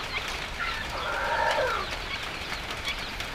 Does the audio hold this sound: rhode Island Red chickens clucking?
yes